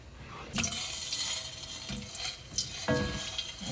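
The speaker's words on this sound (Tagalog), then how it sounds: "But first we have to fry our potato." Potato frying in a hot pan for pork afritada, a close, continuous sizzle broken by a few louder crackles and stirring scrapes, with no talk.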